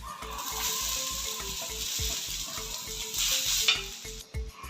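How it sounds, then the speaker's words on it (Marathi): Onion roasting in a pan for a Maharashtrian chicken sukka masala, a steady close sizzle with rhythmic scraping and stirring strokes against the pan, no talking. "कांदा भाजून घेऊ."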